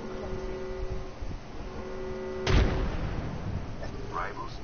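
Gunfire during an Apex Legends tournament match, a single sharp heavy shot bursting over a steady electronic hum and game sounds, with faint voices in the background.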